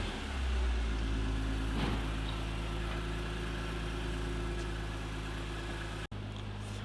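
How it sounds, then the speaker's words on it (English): Steady, close idle of a BMW E46 M3 engine moments after its first start following an SMG-to-manual swap, a constant low hum with faint mechanical ticking and a sharp click near the end. "Alright guys, so the car started. Right now I'm gonna let it idle a bit."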